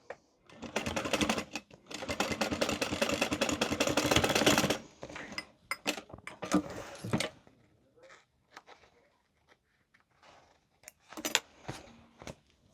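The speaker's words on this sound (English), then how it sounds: "give it a press down, and you're sewing the bottom again" A sewing machine stitches along the bottom of a crossbody bag, running in one long rapid buzzing burst, then short stop-start runs separated by pauses. It is close and fairly quiet.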